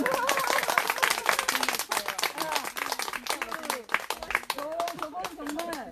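An audience at a book concert claps in a dense, steady round of applause, many hands patting rapidly together, with voices speaking over it.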